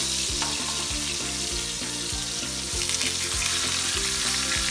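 Pork belly seasoned with salt and pepper sears in hot oil, giving a loud, continuous close-up sizzle and crackle that swells slightly toward the end, with no voices.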